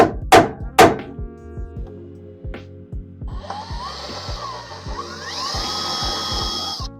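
A power drill whines into metal in bursts, drilling out a spot weld on a Miata, starting and stopping, then running steadily with a rising high-pitched grinding tone, preceded by a few sharp knocks.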